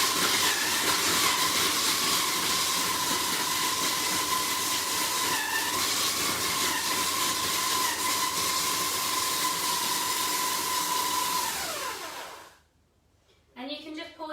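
A food processor blitzes biscuit, dates and coconut oil in a loud, steady whirring roar with a faint whine, running continuously for about twelve seconds before winding down and cutting out, followed by brief quiet clatter.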